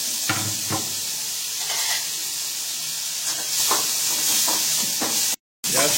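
Tomatoes frying in a pan in a Kolhapuri home kitchen, a steady close sizzle and hiss with soft stirring scrapes throughout, briefly cutting out near the end.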